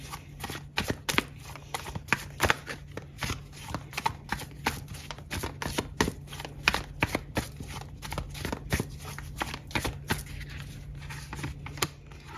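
Tarot cards are shuffled by hand in quick, crisp riffling bursts and taps that repeat irregularly throughout, close but soft, against a faint steady hum with no talk.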